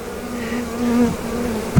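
Honey bees buzz near and loud while a hive is opened for inspection, a sustained droning hum that rises and wavers as individual bees pass close.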